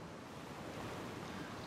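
Waves washing over a shoreline in the DayZ Standalone survival game, a steady broadband wash of surf with a light wind rush, continuous and fairly faint throughout with no voices.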